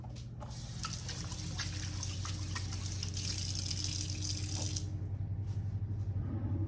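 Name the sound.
rinsing hands under running tap water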